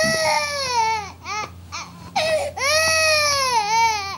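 A baby cries loudly and close by in long wailing bursts, with short breaths and whimpers in the gaps between sobs.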